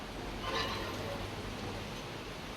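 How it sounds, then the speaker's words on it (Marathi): Rain falling outside a home kitchen, heard as a soft, steady hiss at a distance, even and unbroken throughout. "पाऊस चालू आहे बघा इकडे"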